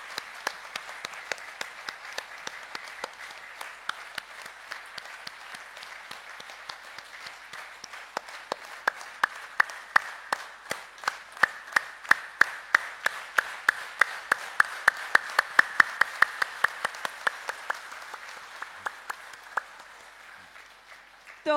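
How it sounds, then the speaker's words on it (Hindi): A crowd at a spiritual meditation gathering claps, starting as scattered applause and building into loud, rhythmic unison clapping with sharp regular beats, then thinning toward the end. "जोरदार तालियां दोस्तों।"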